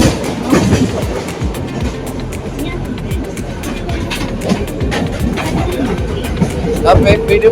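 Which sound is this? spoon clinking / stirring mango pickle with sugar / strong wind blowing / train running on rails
train running on rails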